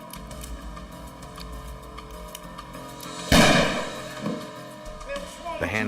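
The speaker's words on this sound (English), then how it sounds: "The handgun had gone off accidentally." A handgun goes off by accident indoors during a tense armed standoff, one sharp loud report followed by a brief decaying echo and a smaller thump, with voices murmuring before and after.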